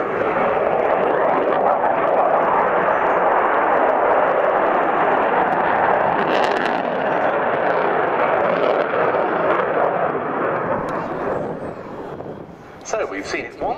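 A Sukhoi Su-27 Flanker roars through an air display at RIAT 2018, its twin jet engines producing a loud, sustained broadband rumble that swells, then fades slightly near the end with a brief burst of crackle; a commentator's voice runs faintly underneath.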